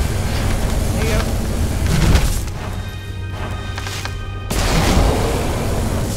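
Gunfire in the video game Magicka lands as loud crashing bursts, one around two seconds and another near four and a half seconds, over busy game noise with talking.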